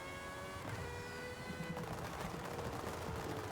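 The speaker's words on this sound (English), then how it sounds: "Why does it sound like fireworks every time I slow down?" Space Engineers vehicle slowing down, giving off dense crackling bursts like fireworks or rapid gunfire over a steady mechanical hum, continuous and fairly loud.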